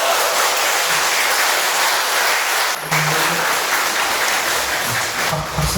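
Applause from the audience at a Buddhist dharma talk in a temple, a dense, steady clapping that fills the clip with short dips in intensity.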